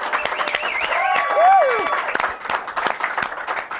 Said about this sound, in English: Can we everybody applaud for me,